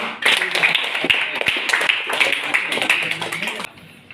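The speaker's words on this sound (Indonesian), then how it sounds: "tepuk tangan untuk kelompok" Group applause from a classroom audience in a sermon-practice lesson, dense clapping running steadily for several seconds, close and fairly loud, then cutting off abruptly.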